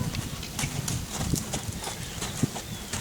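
A horse's hooves clip-clop steadily on the ground as it turns in circles, a quick, even rhythm of close, fairly loud hoofbeats with faint voices in the background.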